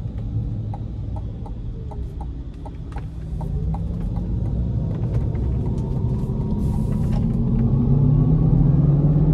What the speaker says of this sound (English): even 2 in this massive beast gets you up to speed very quickly